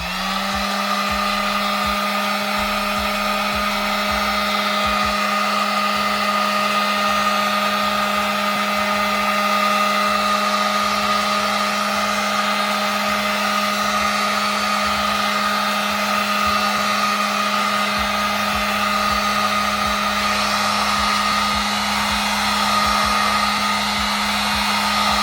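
A heat gun blows steadily and loudly without a break, warming the adhesive tape on a paint-matched car reflector before reinstallation.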